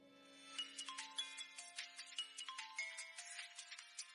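A phone ringtone plays alone in a quiet room, a bright repeating chime melody of rapid tinkling notes over a low sustained tone, continuing steadily throughout.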